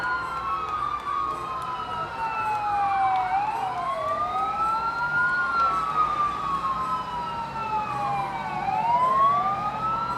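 A fire engine siren wails steadily at a July 4th parade in Willits, its rising and falling tone sweeping up and down for the whole stretch, moderately close, with traffic rumble beneath.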